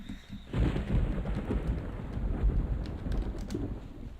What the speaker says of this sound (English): I love the thunder sound in this game.